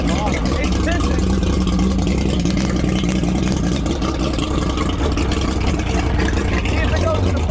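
Loud, continuous engine rumble from a restored 1980s offshore racing boat, its exhaust droning steadily close by with people talking over it.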